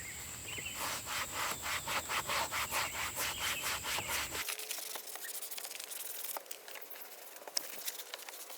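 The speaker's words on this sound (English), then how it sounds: "And now clean it off with just a microfiber towel." A microfiber towel wipes across a car's interior trim in quick rhythmic back-and-forth strokes, close and soft, then shifts to slower, scattered rubbing.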